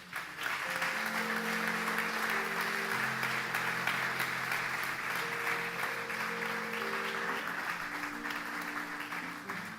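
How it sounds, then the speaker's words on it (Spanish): A church congregation breaks into strong, sustained applause during a worship service, the dense clapping steady and moderately loud over held musical tones playing underneath. "Dele un fuerte aplauso al Señor."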